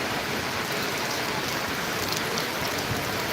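Heavy downpour pounds steadily at the Gondal market yard in Gujarat, a dense, constant roar of rain on surfaces with no breaks.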